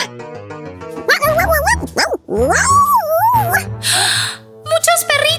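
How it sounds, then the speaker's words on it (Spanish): Excited voices and high, whining, yipping barks from several dogs overlap close up, with talking mixed in throughout. "¡Muchos perritos!"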